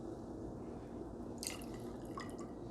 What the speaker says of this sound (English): Then 1 ounce soda water.